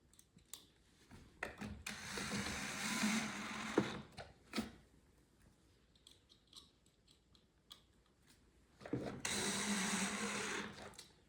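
A power drill drives pocket screws into the side of a wooden farmhouse shoe bench in two sustained whirring bursts, separated by quieter handling and clicks, close by with no talking.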